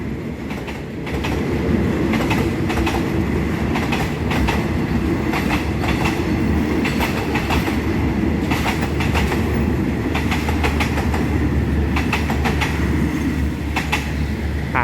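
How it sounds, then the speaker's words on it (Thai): Rapid train no. 171 from Bangkok to Sungai Kolok rolls past the Ranong 1 Road railroad crossing, a loud steady rumble with repeated clickety-clack wheel beats close by, no voices. "เป็นขบวนรถเร็วที่ 171 กรุงเทพสุไหงโกลก"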